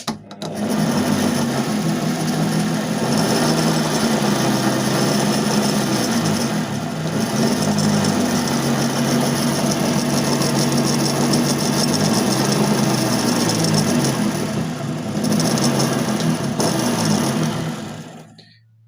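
Homemade lathe fitted with a tailstock runs steadily for nearly nineteen seconds, turning a part with a continuous loud mechanical whir and hum, slight dips in the drone midway, fading out at the end.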